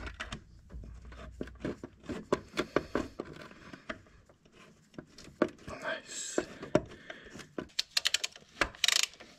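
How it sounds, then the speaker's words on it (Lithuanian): A ratchet tightening a turbo onto the exhaust manifold of a Range Rover TD6 with a BMW M57 diesel engine, giving bursts of rapid close clicks and metallic taps with pauses between them. "Nu ką, turbiną priveržiu prie išmetimo kolektoriaus."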